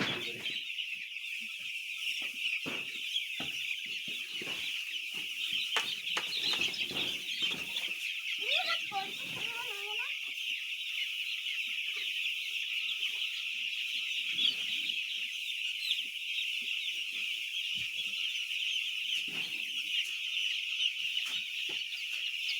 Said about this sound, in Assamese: খুব সুন্দৰ 8 দিনৰ পোৱালি